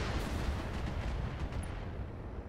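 A mech firing missiles in the Roguetech BattleTech video game, a loud continuous roar of rumbling launches and blasts blending into one heavy, sustained barrage.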